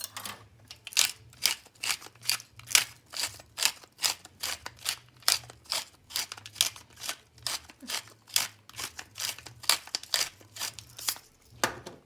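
Black pepper is ground over a vegetable and potato casserole: close, dry, rhythmic crunching bursts repeat steadily with short gaps, with no talking.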